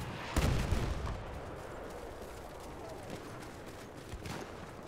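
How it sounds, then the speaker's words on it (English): Incoming mortar rounds in a multiplayer shooter game, a sharp loud blast followed by rumbling and a couple of fainter distant impacts later, with a voice talking underneath. "Mortar's coming in."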